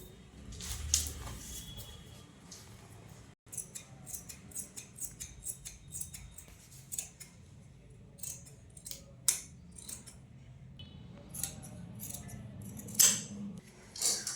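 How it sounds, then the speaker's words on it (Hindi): Scissors cut through salwar belt fabric in a run of quiet, crisp snips with short pauses between them, close and alone. "अब मैं आपको बेल्ट की कटिंग दिखाती हूँ, ऐसे हम इसको काट देंगे"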